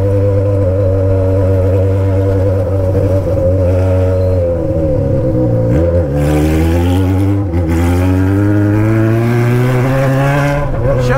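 A Yamaha XJ motorcycle engine revs and accelerates loudly nearby, its pitch climbing steadily, briefly dropping at two gear shifts, then rising again, with no talk over it.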